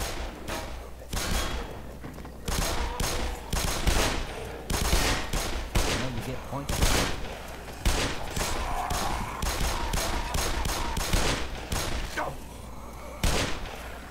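Dense gunfire from a firefight in the video game Black Mesa, with rapid bursts and single shots crackling continuously and loudly, broken by a few heavier thumps and occasional voices in the background.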